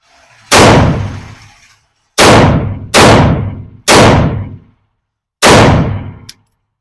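Five loud, close revolver shots from a Taurus 605 fired with standard FMJ ammunition, sharp cracks in an irregular sequence with short decaying tails and brief silent gaps between them.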